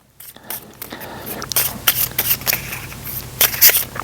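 A deck of game cards is shuffled by hand: a run of quick, papery riffles and slaps close to the mic, irregular and bursty over several seconds, with faint breathy speech in between.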